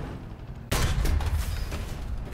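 A tank cannon fires in a video game: one sudden heavy blast after a quiet stretch, close and loud, followed by a rumbling roll of debris and echo that slowly fades.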